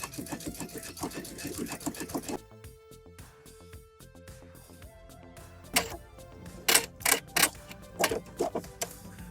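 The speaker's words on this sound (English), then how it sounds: "we are going to sew it at 1/4 of an inch" A sewing machine stitches a quarter-inch seam along the curved edge of a fabric facing with glue-backed interfacing, running in a steady close burst, then pausing and restarting in short bursts with clicks and handling.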